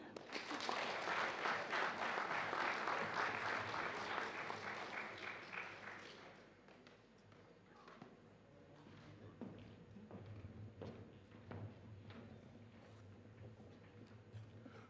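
An audience at a teacher training college graduation ceremony applauds loudly and steadily for several seconds, then the clapping thins to scattered claps and faint room noise.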